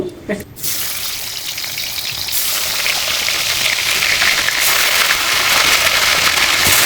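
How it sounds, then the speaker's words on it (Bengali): Chicken pieces frying in oil in a pan while making biryani, a steady broadband sizzle and crackle that starts after a brief quiet moment and continues loudly and evenly to the end, with no talking. "এই তেলের ওপর আমি আবারও সামান্য তেল দিয়ে দেব। এর উপরে এই চিকেনগুলো ভেজে নেব।"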